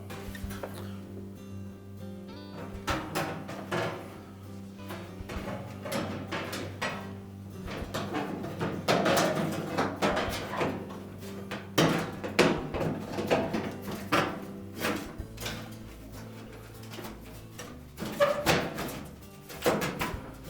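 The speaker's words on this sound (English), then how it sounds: "And now we can put the back panel back on." The metal back panel of a Frigidaire washer is lifted and fitted back into place, giving a series of hollow metallic thunks, scrapes and rattles that come irregularly and close by, louder in bursts, with no talking.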